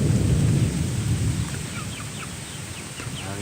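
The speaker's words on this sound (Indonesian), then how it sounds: "Anginnya gede banget." A heavy rainstorm with strong wind in Lakbok, Ciamis, with a dense roar of rain and gusts and a deep rumble of thunder at the start that fades into steady downpour.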